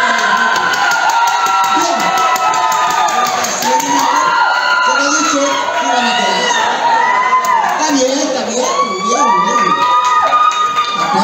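A studio audience at a TV casting show cheers and whoops loudly, a dense, continuous crowd roar full of high shouts that stays close and steady throughout.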